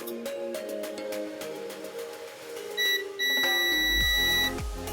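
Steady electronic beep from a multimeter's continuity test on a wire, sounding twice near the end as a sustained tone, once briefly and then longer, in a quiet workbench setting during ZX81 computer repair.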